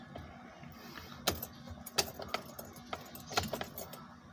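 Keys jangle and click as the ignition key is turned in a 2011 Kia Rio that cranks but won't start, a series of sharp metallic clicks and rattles, close and quiet, with no engine heard.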